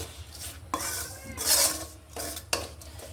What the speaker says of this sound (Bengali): আমি মশলাটা একটু কষিয়ে নিচ্ছি